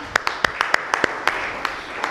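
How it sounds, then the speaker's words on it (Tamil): A small congregation at a CSI church Christmas children's program claps for a child who recited a psalm, a sparse, uneven patter of individual hand claps, roughly a dozen sharp strikes over two seconds. "நம்ம எல்லாரும் பலத்த கைத்தட்டல கொடுத்துடலாம்"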